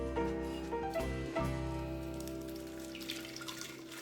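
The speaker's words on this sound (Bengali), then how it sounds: "এর মধ্যে বীজ বা এক্সট্রা পার্ট কোনো কিছু যদি থেকে যায় সেই জন্য একটা ছাঁকনির সাহায্যে ছেঁকে নেবো।" Watermelon juice with lime juice is poured through a strainer, trickling and splashing steadily, with a tonal ringing from the vessel and a few knocks before the flow softens.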